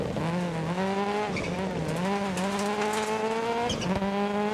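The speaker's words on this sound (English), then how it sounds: "we've got a bit of a misfire in this stage which is hampering our performance" In the DiRT Rally 2.0 video game, a Colin McRae rally car with an electrical fault drones loudly and steadily. The engine note sags and stumbles in brief dips as the misfire cuts in and out, and tyres scrabble underneath.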